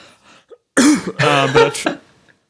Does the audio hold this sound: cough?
yes